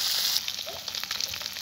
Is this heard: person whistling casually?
no